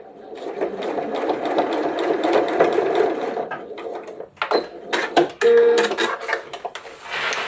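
Sewing machine back tacking a seam on a large wet-and-dry washbag with fusible fleece, a steady mechanical whir for about four seconds, then short stop-start bursts as the stitching reverses, close and alone.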